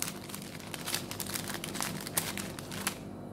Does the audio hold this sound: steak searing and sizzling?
no